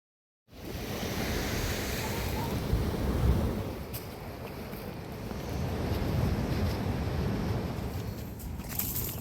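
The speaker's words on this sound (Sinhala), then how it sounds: "දෙපැත්තෙම වතුර මේ මැදට ගහනවා." Sea waves wash in from both sides at Polhena beach in Sri Lanka, a continuous roar of surf with wind buffeting the microphone, no voices.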